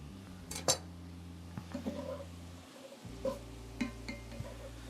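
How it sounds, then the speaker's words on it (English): Utensil scraping and clinking against a cooking pot as carrots are stirred into a one-pot chicken pot pie, with scattered light clanks over a steady low kitchen hum. "so we give this a stir"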